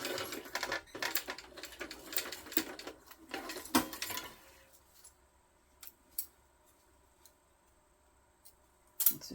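A sewing machine stitches across the full width of a bag tab on a crossbody hip bag, a few seconds of dense rapid stitching that then stops, leaving quiet with a handful of sharp isolated clicks.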